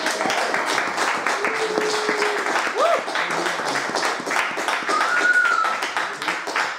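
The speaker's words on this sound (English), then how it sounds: "one more round of applause." Audience applause after an author's reading at an evening event, a sustained patter of clapping with scattered louder claps and a few voices mixed in.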